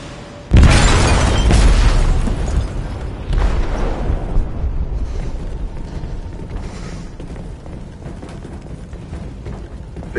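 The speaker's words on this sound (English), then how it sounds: "They detonated an explosive in the hold." A heavy explosion erupts in a ship's hold in Detroit: Become Human, a loud sudden boom followed by a long rumbling roar with creaking metal that slowly fades.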